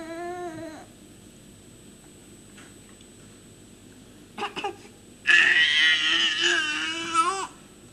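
From a film screened during a Sunday church service, a baby's cry opens with a brief wail. After a quiet gap and a few small whimpers, a sustained, strained crying fit takes over near the end.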